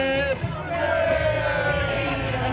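A crowd at a school anniversary football event shouts a loud, unified cheer, voices rising together in a sustained roar after a brief dip.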